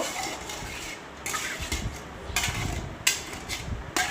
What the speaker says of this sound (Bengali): দিয়ে আমি এই মশলা করা বাটিটাই সুন্দর করে ধুয়ে নেব